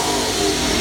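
A 2016 Mustang with a triple blower revs its exhaust in a loud, dense, unbroken roar that holds steady across the short burst, with no voices over it.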